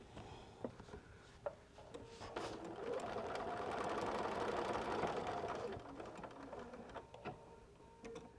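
A sewing machine runs in a steady whirring burst while top stitching a quilted bag, with a few clicks before and after the run. Close but fairly quiet, no talking.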